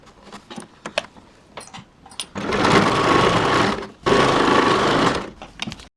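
A sewing machine stitches the neckline of a baby frock, running in two sustained, steady whirring bursts with a brief pause between them. Scattered light ticks and clicks of handling the fabric come first. The sound is close and loud, with no talking.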